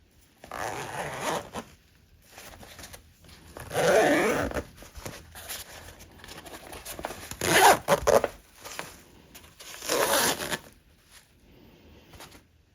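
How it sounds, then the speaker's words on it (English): A YKK seal zipper on a Bellroy Venture travel pouch is pulled open and closed several times, giving close, rasping zips in separate bursts with quiet pauses between them. "The zipper seal, I think that's what you call it, appears to seal the pouch and be waterproof."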